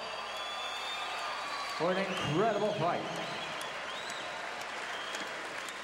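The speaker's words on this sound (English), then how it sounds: "let's give these 2 warriors a tremendous round of applause" Audience applause for two boxers after a bout in a boxing hall (Phil Rose v Horace Hunter), a steady distant wash of clapping running throughout while an announcer speaks over it through a PA.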